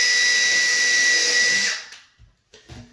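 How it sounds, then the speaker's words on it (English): Power drill pre-drilling a hole while installing Levolor Trim+Go cordless window blinds, a steady loud high whine for under two seconds that winds down abruptly, followed by a few light clicks and handling knocks. "Pre-drill this hole."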